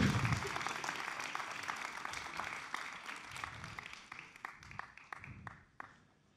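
Audience clapping at a youth church service, dense and steady at first, then thinning into scattered individual claps toward the end.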